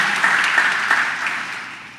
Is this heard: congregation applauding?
yes